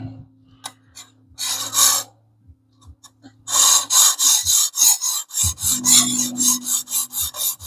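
A knife blade is drawn across a sharpening stone to raise a burr, first in a couple of short rasping strokes, then in a quick run of even, loud back-and-forth scrapes close by.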